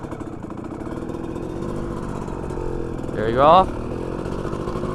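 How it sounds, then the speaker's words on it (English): Dirt bike engine idling with a steady mid-pitched putter, then revving up briefly as it pulls away in first gear, with someone talking over it close by. "Start the bike and show you guys how to shift."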